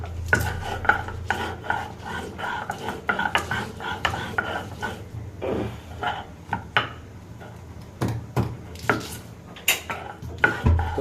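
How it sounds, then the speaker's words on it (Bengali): Spices being ground by hand on a stone for a small fish curry, a steady rhythmic series of close rasping, rubbing strokes with occasional clinks, heard alone without talk. "তো দেখতে পাচ্ছেন যে আমি বেটে নিচ্ছি।"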